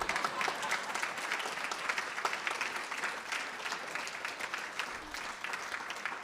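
Sustained audience applause fills a celebratory evening gathering, steady dense clapping at moderate distance with no voices over it for the full stretch.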